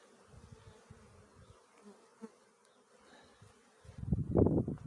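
Honeybees buzzing near a hive as they carry pollen and collect water, a faint low hum through most of the clip that swells louder and closer in the last second, with no talk.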